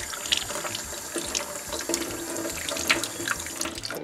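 Kitchen faucet running steadily into a sink while peeled shrimp are rinsed, with splashing and occasional clinks from handling over the constant flow.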